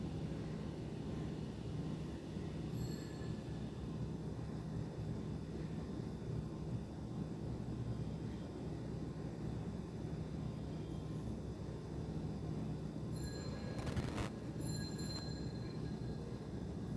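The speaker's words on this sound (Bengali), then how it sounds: "ট্রেন চলতে শুরু করলো" Haramain high-speed train running, a quiet, steady low rumble and hum heard from inside the carriage throughout, with a faint brief rattle near the end.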